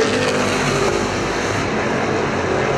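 IMCA stock cars racing around Perris Auto Speedway in a street stock main event, a loud continuous roar of several engines blending together, with a steady drone of revving motors at close range.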